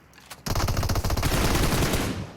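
Automatic gunfire from the mobile battle-royale game PUBG Mobile breaks out suddenly after a brief lull and becomes a loud, rapid, continuous burst of shots that fills the rest of the moment.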